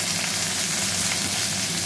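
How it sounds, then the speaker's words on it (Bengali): Chopped okra fries in a pan with a dense, even, continuous sizzle that sounds close and steady throughout. "ঢ্যাঁড়সটা আমি একটু ভাজা ভাজা করবো"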